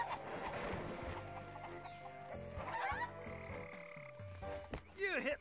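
A chicken in the Shrek 2 game, set in Shrek's swamp, clucks and squawks over a busy game music bed, with short bursts near the end standing out over the tune.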